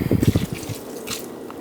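Rum pours into a bowl of homemade Thanksgiving sausage mixture, giving a short burst of wet glugging and dripping up close that fades into a quieter trickle.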